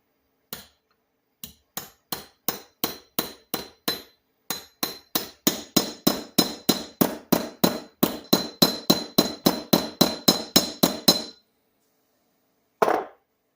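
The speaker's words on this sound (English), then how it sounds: "Let's do some peening, see if we can get it to catch." A hammer peens a rivet on a vintage hand plane with a long series of sharp metallic taps. They come slowly at first, then speed up into a quick steady rhythm, stop briefly, and end with one last strike.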